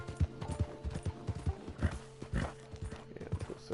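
Horse hooves clip-clop in a steady trotting rhythm while riding in Red Dead Redemption II, fairly close and quiet, with faint snorting and no talk.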